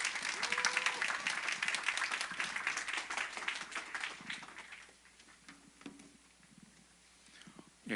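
Warm audience applause in a Korean church youth service welcoming a missionary, loud and dense at first, then thinning into scattered claps and fading to near quiet before a brief sound at the very end.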